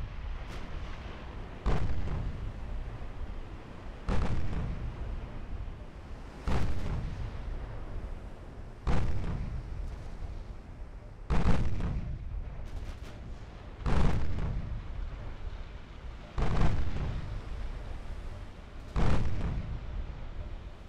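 Naval guns fire in the warship video game Ultimate Admiral: Dreadnoughts, a series of about eight heavy booming salvos spaced a few seconds apart, each followed by a rumbling decay, with no talk.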